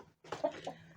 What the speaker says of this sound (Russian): Здесь у нас гуляют курочки наши.